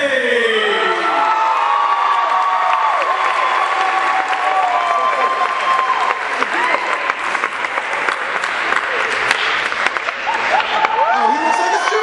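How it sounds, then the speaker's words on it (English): An audience at the Mr. Engineer 2014 contest applauds and cheers for the winner, with dense continuous clapping mixed with shouts, whoops and excited voices, loud and sustained throughout. "Let's give him a nice round of applause"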